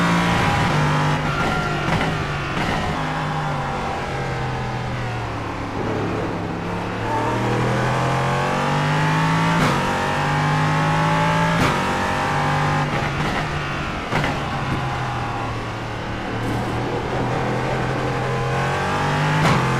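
A race car engine in a racing video game drones continuously at high revs, its pitch rising and falling through gear changes with brief sharp shifts, loud and steady throughout with no talk.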